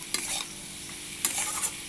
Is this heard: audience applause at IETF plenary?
no